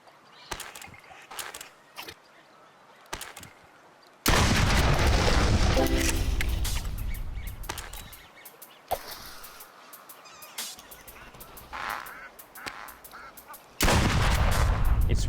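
Video game weapon gunfire, sharp bursts and loud sustained volleys separated by quieter gaps with scattered clicks and thuds, heavy firing returning strongly at the end.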